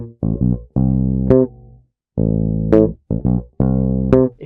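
Bass guitar playing a funk groove at a slowed-down practice tempo, a few separate phrases of plucked, sustained low notes with short gaps between them, close and alone.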